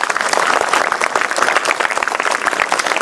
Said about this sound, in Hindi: एक बार सभी बच्चों के लिए आप ही जोरदार तालियां।